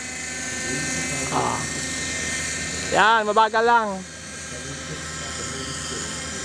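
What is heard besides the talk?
remote-control Raptor helicopter flying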